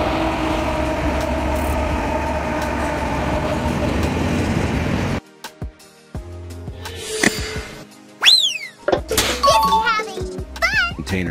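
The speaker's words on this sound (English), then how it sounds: "Commuter train." A commuter train rumbles steadily for about five seconds, then cuts to quieter rail sounds with chimes, tonal squeals and a voice talking over the second half.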